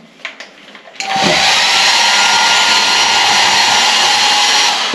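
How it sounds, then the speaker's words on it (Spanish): A hotel room hair dryer switches on after a second of quiet room noise with faint handling sounds, then blows with a loud, steady broadband whoosh and a constant motor whine, running alone without talk to the end. "vamos a hacer la prueba del secador"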